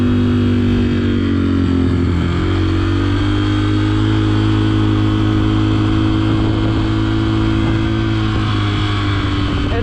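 A dirt bike engine drones loudly and close on a trail ride, holding a steady hum with slight pitch shifts as the rider moves, no speech.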